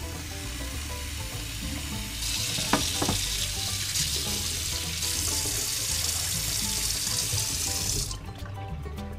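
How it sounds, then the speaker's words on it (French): Cold water runs steadily from a tap into a saucepan, a continuous rushing hiss with faint metallic clinks, then the flow stops near the end. "je vais mettre de l'eau froide dans la casserole"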